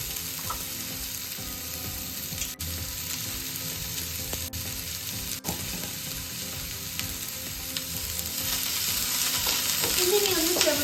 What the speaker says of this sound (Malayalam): ഇതിനെ ഒന്ന് ചെറുതായിട്ട് വഴറ്റിയെടുക്കാം.